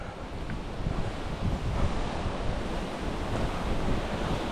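Continuous roar of sea waves near a house on Siquijor island, with steady surf wash and wind buffeting the microphone, no voices.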